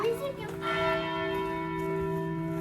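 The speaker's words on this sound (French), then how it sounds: "Des cloches qui sonnent." Church bells ring in Belgium, their sustained metallic tones humming and overlapping at moderate distance, with faint voices briefly audible at the start.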